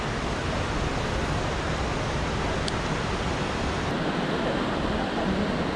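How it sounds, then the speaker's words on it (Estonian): Flowing water of the Katsura River at Arashiyama, Japan, a steady broadband rush that holds evenly throughout with no clear voices. "Katsura jõgi, minu arust peaks olema selle asja nimi."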